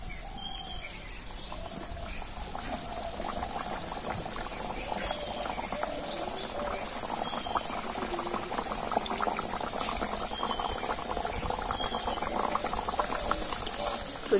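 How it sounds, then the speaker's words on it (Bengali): Kachoris, pea-stuffed puris, fry in medium-hot white oil in a wok, giving a dense, steady bubbling sizzle close by that continues throughout, with a voice faintly in the background. "সেই তেলের মধ্যে আমি কচুরিগুলো ভেজে নেব"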